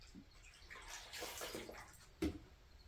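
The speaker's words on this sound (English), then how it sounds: "then we're gonna fill some water in here" Water runs into a pot being filled for melting beeswax, a faint, soft rushing splash close by that swells and fades over a few seconds and ends with a brief clunk.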